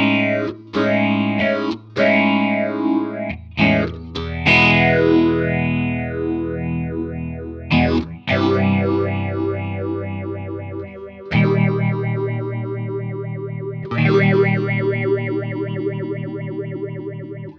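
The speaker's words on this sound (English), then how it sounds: "The resonance switch can bring in feedback from the output signal back into the input signal, and that will accentuate the notches and frequency reinforcements of the phaser" Guitar through a Strymon Zelzah phaser pedal with the resonance switch feeding the output back into the input gives sweeping, notched, intense swirls over chords and single notes, loud and alone with no talk.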